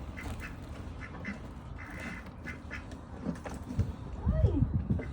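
Backyard ducks quacking near the camera in a rough cluster of calls that grows louder toward the end, mixed with a person talking.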